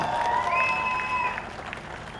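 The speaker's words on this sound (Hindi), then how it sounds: "जोरदार तालियां हो जाए" Audience applause at a television show launch event for a new series, a steady wash of clapping with a few sustained electronic tones layered over it, moderately loud throughout.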